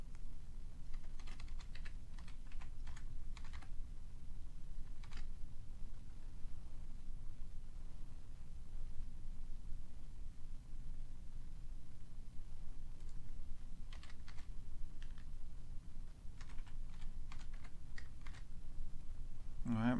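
A password is typed on a computer keyboard in short bursts of quiet key clicks, spread through the stretch over a steady low background hum.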